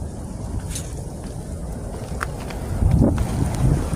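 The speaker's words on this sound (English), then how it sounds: "Is that wind?" Wind gusting outside a winter storm shelter, a steady broadband rush with a louder surge near the end, heard close to the microphone with no talk.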